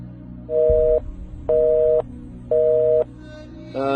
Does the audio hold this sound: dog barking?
no